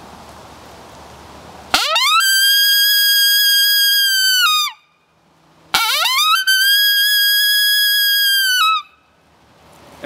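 A hand-blown coyote howler call imitating a coyote greeting howl: two long, loud, rising wavering howls, each sustained about three seconds and separated by a short pause, close and clear.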